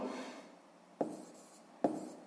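Pen strokes write numbers in a notebook during a sixth-grade math exercise, giving soft, close scratching with two sharper taps as new strokes begin.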